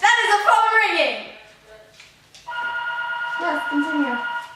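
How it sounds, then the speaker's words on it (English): A telephone rings with a steady, sustained electronic tone during a classroom lesson, following a stretch of someone talking and continuing for a couple of seconds at moderate loudness. "That is a phone ringing!"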